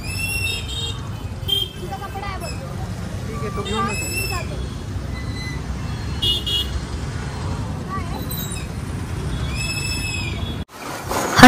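Busy street traffic during Ganpati festival shopping, with repeated car horn toots near and far over a rumbling road and crowd babble, ending in a brief rustle.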